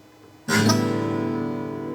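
One acoustic guitar chord is strummed after a brief quiet moment, ringing on with a slightly harsh, buzzy edge from a nut problem as it sustains.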